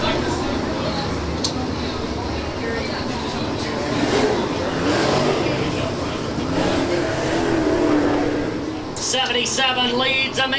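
Winged sprint cars roar continuously around the banked Springfield Raceway oval during a restart, a dense loud engine wash that swells and fades as the pack passes, with a commentator talking over it.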